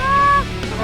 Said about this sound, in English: Guys, geese coming in.